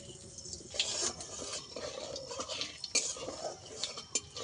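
Nigella seeds tempering in hot mustard oil while a fish curry is cooked, with faint crackling and light metal spoon scrapes against the pan, quiet and close, plus a few soft background noises.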